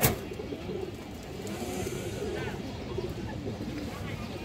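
Soft pigeon cooing among domestic pigeons for sale, low repeated coos under steady background noise with someone talking throughout.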